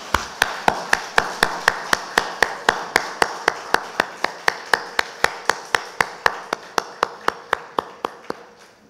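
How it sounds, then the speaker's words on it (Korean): A Korean church congregation claps together during Sunday daytime worship: crisp, evenly timed claps in unison at a brisk steady tempo, fading slightly at the end. "하나님께 영광의 박수 올려드립니다."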